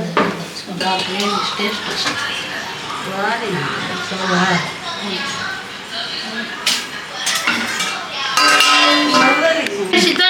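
Pot lid and metal utensils clink and scrape in a home kitchen as mutton gravy cooks, with repeated knocks scattered through steady sound and a voice talking over much of it.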